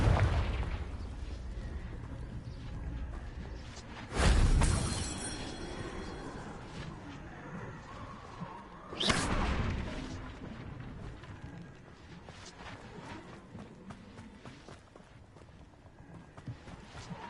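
Two loud blasts from the Confringo explosive spell hitting rocks in Hogwarts Legacy, the first around a third of the way in and the second near the middle, each a broad burst fading into ongoing game ambience.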